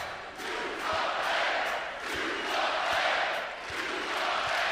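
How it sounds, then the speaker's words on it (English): A basketball crowd in Tucson on senior night roars steadily, a dense and energized wall of cheering that swells and dips, with faint rhythmic thumps underneath. "energized crowd on senior night"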